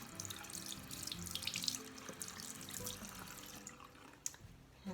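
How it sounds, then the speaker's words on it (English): Hands are washed under a running tap while soapmaking with honey and beeswax, giving a steady, close rush of water splashing into a sink with a few sharper drips and splashes throughout. "So I'm going to wash my hands as always."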